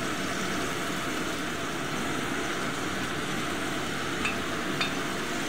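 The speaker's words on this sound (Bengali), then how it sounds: "সবগুলো দিয়ে মশলাটাকে কষিয়ে নেব" Turmeric, chili, coriander and cumin powders frying in oil in a pan for a koi fish curry, a steady close sizzle with faint scraping of stirring and a couple of soft clicks near the end.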